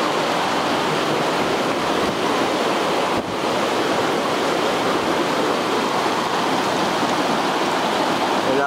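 A swollen stream rushes through a ravine beside an old retaining wall under a bridge in Chilete, a steady, loud, dense roar of flowing water with wind noise and no pauses.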